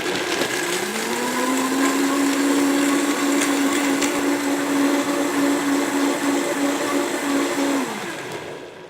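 A blender runs on high chopping chia pudding ingredients: a loud, steady motor whir that spins up in the first second, holds evenly, then winds down near the end, with no voices.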